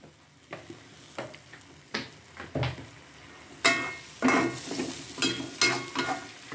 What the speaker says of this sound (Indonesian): Ini akan ditumis terus